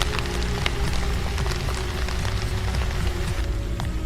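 Heavy rain pours steadily in a dense, even hiss with scattered droplet patter, loud and continuous throughout with no voices.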